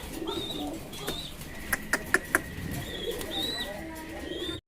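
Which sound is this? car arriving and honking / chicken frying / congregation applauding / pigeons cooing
pigeons cooing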